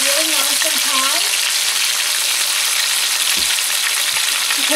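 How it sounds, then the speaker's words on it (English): A pot roast sears in hot oil over high heat, giving a loud, steady sizzle and crackle throughout, with brief talk near the start. "I'm going to put this one side down into the hot oil"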